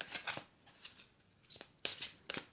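Archangel oracle cards shuffled and handled up close: quiet, crisp riffling bursts in uneven clusters with short pauses between, no voices.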